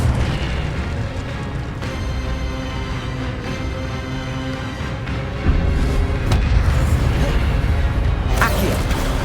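Incendio fire spells cast again and again in Hogwarts Legacy give repeated booming bursts within a dense, continuous wash of game noise, with a sharper burst near the middle and another near the end.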